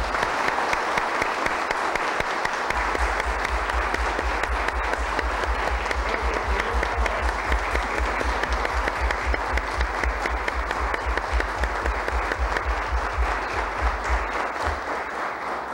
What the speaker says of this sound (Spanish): les pido de verdad un fuerte aplauso para ellos